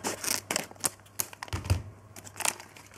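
A Simpsons LEGO minifigure foil packet is torn open up close, giving crinkly, crackling bursts of foil with short rips spread over a few seconds.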